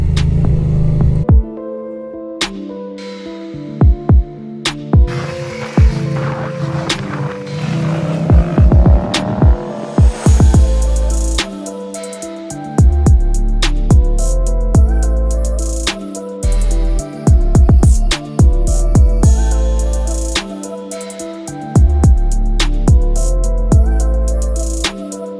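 A Yamaha Ténéré 700 motorcycle rides off-road, its engine loud and close, throbbing and revving in repeated surges with gear changes and brief drops in throttle.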